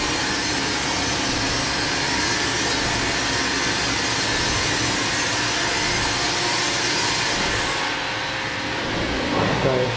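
A Wood-Mizer WB2000 sawmill in a modern wood-processing factory cuts a 13 mm board in automatic mode, giving a loud, steady, broadband roar that eases off briefly near the end.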